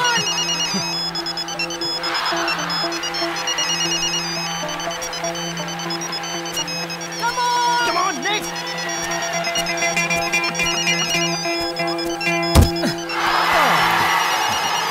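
A mobile phone ringtone plays on, a repeating electronic melody heard over a noisy background with occasional thumps and a sharp knock.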